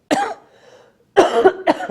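Two sharp coughs at a women's basketball press conference, close and loud, separated by a short pause, the second followed by a quick smaller cough.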